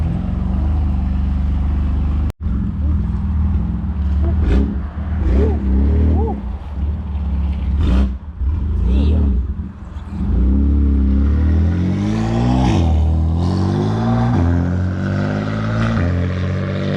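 A straight-piped 650HP BMW F80 M3 revs hard with a loud, raspy exhaust, rising and falling in repeated throttle blips and a sharp crackle near the start, close and continuous throughout.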